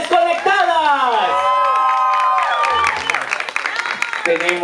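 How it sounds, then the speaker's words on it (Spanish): Applause and cheering from an anniversary dance-show audience, mixed with whoops and sliding vocal tones over a crowd, loud and busy throughout. "Un aplauso que se oiga para las musas desconectadas"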